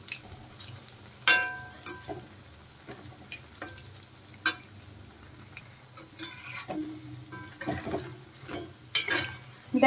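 Cauliflower florets dipped in gram flour batter fry as pakoras in hot oil, a steady close sizzle broken by sharp clicks and scrapes of turning them in the pan.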